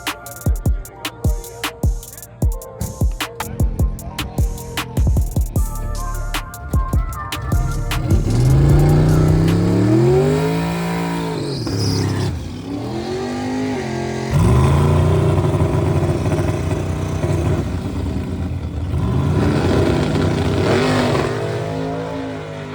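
A low-prep drag race car engine is started and revved hard toward 8,000 RPM without shifting, loud close sweeping rises and falls after an uneven stuttering start, sustained for over twenty seconds with no talk.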